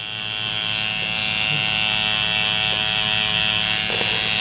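Tattoo machine fitted with a round shader needle, working solid colour into skin, gives a steady, close electric buzz that holds evenly throughout with a faint hum beneath it.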